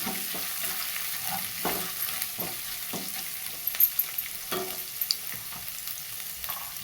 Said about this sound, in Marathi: चांगलं मिक्स करून घ्यायचं हलवून म्हणजे फक्त तेलात परतलं